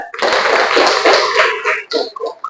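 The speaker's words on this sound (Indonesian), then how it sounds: "tepuk tangan untuk Zahra" A class of students claps for a classmate, close, loud, brisk clapping that tapers off into a few scattered claps.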